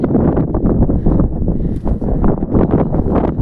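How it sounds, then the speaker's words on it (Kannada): Strong gusting wind on a hilltop at Chitradurga fort buffets the microphone in loud, rumbling blasts that rise and fall continuously, with no voices. "ಸೀರಿಯಸ್ ಗಾಳಿ ನನ್ನೇ ತಳ್ತಾ ಇದೆ."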